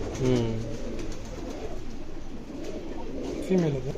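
Karnapura pigeons give two distinct cooing bursts, one at the start and one near the end, with a quieter murmuring stretch between them against low background noise.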